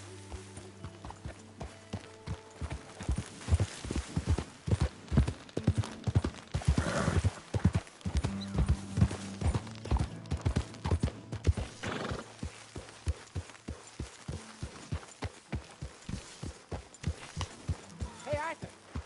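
Horse hooves clip-clop steadily in Red Dead Redemption 2, with a whinny partway through, while voices talk over the rhythmic thuds.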